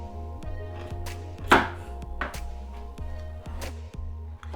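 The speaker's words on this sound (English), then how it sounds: "Now let's slice them." A knife slicing through peeled butternut squash on a cutting board, a series of evenly spaced crisp chops with one louder cut, heard over a steady low background hum.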